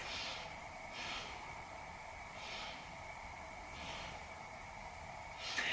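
Slow, steady breathing during a beginner yoga core-strengthening hold, three airy inhale-exhale cycles close to the microphone, evenly spaced with no talking.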